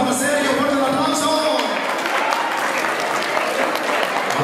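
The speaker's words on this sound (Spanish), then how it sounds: "Fuerte el aplauso para Sergio, fuerte el aplauso." Wedding guests give loud, sustained applause for the groom Sergio, with dense clapping under a voice that talks over it at the start.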